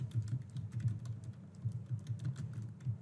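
Keys click quickly in a steady patter on a computer keyboard, close and fairly quiet with no talking.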